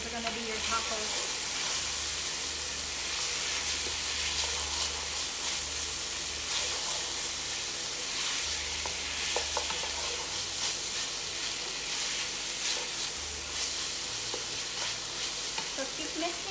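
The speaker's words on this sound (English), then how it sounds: "So keep mixing it for a little while so that the sausage could start getting also a little brown and cook better." Sausage meat fries and is stirred in a pan for taco filling, a loud, continuous sizzle with repeated scraping strokes and a low rumble underneath, no talk.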